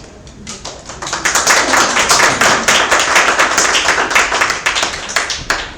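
A room of people applauding, the clapping swelling quickly and holding as a dense, lively patter before starting to thin at the end.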